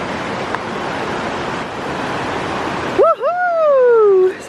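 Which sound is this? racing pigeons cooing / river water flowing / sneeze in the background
river water flowing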